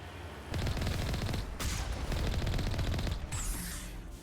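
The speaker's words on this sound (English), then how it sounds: "Turrets everywhere." Rapid bursts of automatic turret gunfire in a video game, loud and dense, rattling almost continuously for several seconds with a brief pause and a sharp hiss near the end.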